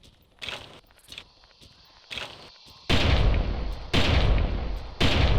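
Two heavy gunshots from the Hole Puncher weapon in the Carnivores hunting game, loud booming blasts with long rumbling tails, following quieter scattered steps and rustling.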